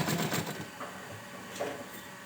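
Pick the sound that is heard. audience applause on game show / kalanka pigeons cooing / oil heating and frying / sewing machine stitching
sewing machine stitching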